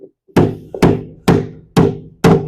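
A hammer knocks a piece of laminate flooring into place beside a quarter-inch spacer gap, five evenly spaced sharp thumps at close range with short decaying tails.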